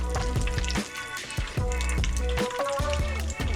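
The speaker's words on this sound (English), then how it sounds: "These are frying along nicely." Close, steady sizzle and crackle of arancini rice balls frying in hot oil, with bubbling pops throughout.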